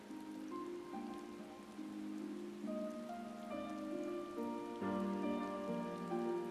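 Steady rain hiss in a Final Fantasy XIV: Stormblood cutscene at Castrum Fluminis, running continuously under a loud sustained orchestral music score throughout.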